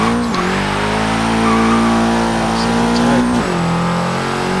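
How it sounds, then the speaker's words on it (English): A 300 hp 2013 Dodge Dart on stock suspension in Forza Horizon 3, engine revving hard through a lift shift as the tires spin, a loud steady roar that dips at each shift. "That was a lift shift and it still blew the tires."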